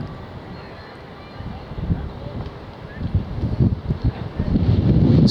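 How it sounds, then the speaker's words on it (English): Wind gusting across a countryside hill in a suburban walking area, rumbling buffets against the microphone that swell louder toward the end, with some low voice-like murmur mixed in. "Wind's still here with us, as you can hear."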